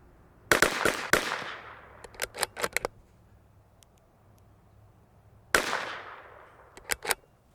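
Sharp cracks from a Bergara BMR X .22LR steel rimfire rifle at a target range: a pair of shots early, a quick cluster of lighter clicks and snaps, then another shot and a few more snaps, close and loud against quiet.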